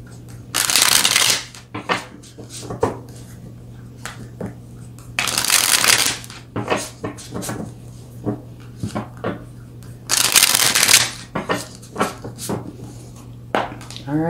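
Tarot cards are shuffled in repeated bursts, three long riffling rushes with lighter taps and flicks between them, close and fairly loud over a steady low hum, with no talking.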